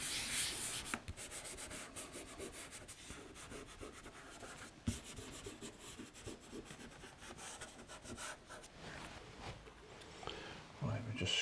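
Dry, rasping strokes of pastel being scraped across paper in a painting session, with repeated scratchy passes close up and a soft voice talking over the scraping.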